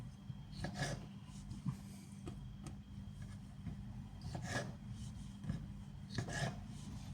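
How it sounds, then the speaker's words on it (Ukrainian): A knife slices green olives in half on a board, making soft, rasping cuts at irregular intervals. The strokes are close but quiet and sit over a low steady hum. "Тепер беремо наші оливки і так навпіл перерізатимо"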